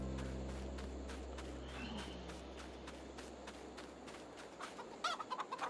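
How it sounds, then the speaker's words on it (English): Chickens on a farm in the video game Farming Simulator 22 cluck faintly over a low steady hum, with a series of soft clicks and taps running through the scene. "See how our chickens are doing over here."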